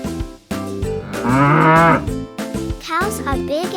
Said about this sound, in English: And here come the cows.